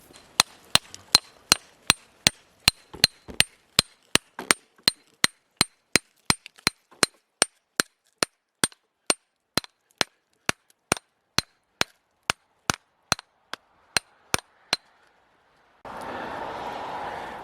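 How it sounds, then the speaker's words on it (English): A hammer chips steadily at granite pegmatite rock to free a garnet, sharp clean strikes at an even pace of roughly two per second, close and loud, ending in a short burst of rustling noise. "I've been just chipping away at this pegmatite still, and I've spotted a nice garnet"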